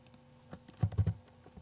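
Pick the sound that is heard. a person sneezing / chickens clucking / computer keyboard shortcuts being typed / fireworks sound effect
computer keyboard shortcuts being typed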